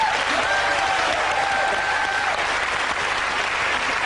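A TV panel show studio audience bursts into dense, sustained applause, loud and continuous throughout with a faint crowd murmur.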